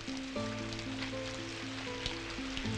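Rain falls as a steady soft hiss throughout, while sustained musical tones play over it.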